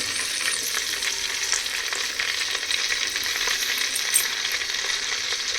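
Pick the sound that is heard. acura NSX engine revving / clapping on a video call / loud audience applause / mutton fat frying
mutton fat frying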